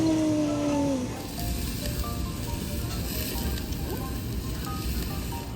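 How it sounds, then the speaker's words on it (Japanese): Beef skirt steak grilling at a Morioka yakiniku table gives off a steady, soft sizzle that carries on at low volume throughout, after a brief tone at the start. "じゃあ焼こうか"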